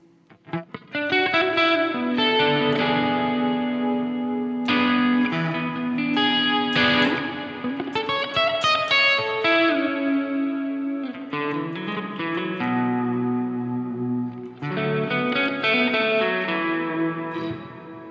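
Electric guitar played through a Walrus Audio Slö multi-texture reverb pedal, sustained chords and melodic lines washing into a dense, lush reverb tail, loud and continuous with brief swells and pauses between phrases.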